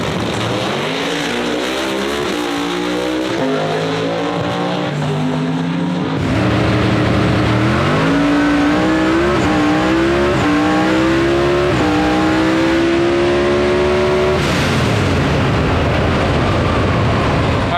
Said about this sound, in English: So we're about to go watch some stick shift racing.